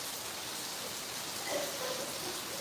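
Heavy rain pours down on a house with leaking roofs, a steady, even hiss of downpour that swells slightly midway, fairly faint and uninterrupted by voices.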